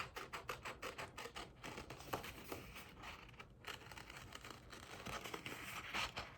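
Scissors cutting paper shapes for a cactus craft, giving a steady run of close, crisp snips and papery rustles with a soft rhythmic scratch and no talk.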